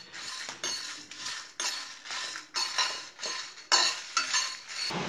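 Whole spices including cloves tossed lightly in a pan for grinding into powder for a Tamil mushroom gravy, giving repeated clinks and scraping strokes of a utensil against metal in an even rhythm, close and clear with no talk.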